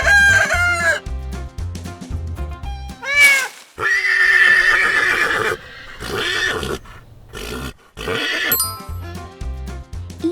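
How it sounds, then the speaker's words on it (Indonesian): A rooster crows several times, loud and close, each call rising and then trailing off, alongside other farmyard animal calls with short quiet gaps between them. "Ayam jago berkokok buat bilang selamat pagi."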